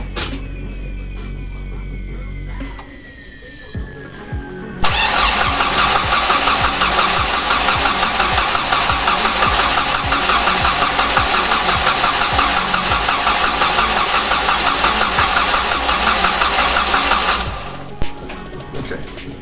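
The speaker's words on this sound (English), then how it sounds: "I'm going to try and start this thing up." An engine on a car nicknamed White Rice cranks for a few seconds, catches and fires up loudly, then runs steadily at a strong, rough idle for about twelve seconds before cutting off, with faint talk near the start.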